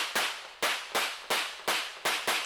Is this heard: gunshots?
yes